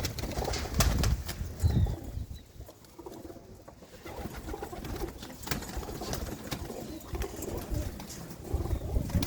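Pigeons coo softly nearby while wings flap in bursts, over a busy, rustling background.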